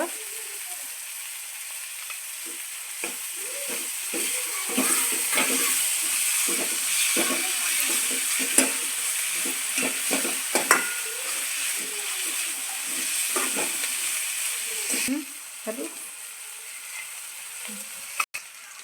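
Homemade chili paste sizzles and fries in a pan for an Indo-Chinese chilli chicken gravy, a continuous close hiss broken by clacking stirring scrapes, with no voices.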